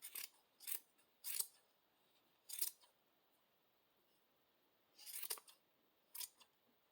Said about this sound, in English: I'm going to cut about half of this off.